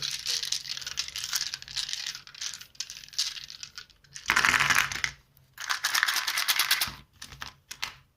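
Dice rattled and shuffled by hand for a Dungeon Academy board game, a run of dense clicking clatter in bursts with brief pauses, close and fairly loud.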